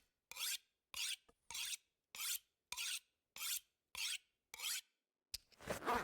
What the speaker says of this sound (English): Sharpen our knife.